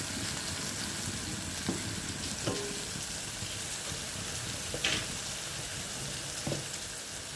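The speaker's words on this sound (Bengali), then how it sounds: "তেলটা গরম হয়েছে, এর মধ্যে আমি সর্ষে আর শুকনো লঙ্কা ফোড়ন দিলাম" Mustard seeds and dried red chillies tempering in hot oil, a low, steady sizzle with a few scattered pops and light clinks, fairly faint and without talk.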